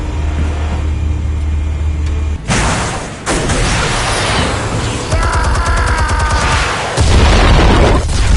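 Explosive charges detonating in Batman: The Telltale Series, with broad, loud booming blasts and rumbling debris bursts from about 2.5 seconds onward, layered with action sounds.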